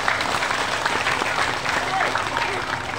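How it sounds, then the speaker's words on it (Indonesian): An audience at an Islamic sermon in a village claps together in dense, sustained applause that fills the whole moment at steady volume, with a faint murmur of voices mixed in. "Tepuk tangan dulu dong."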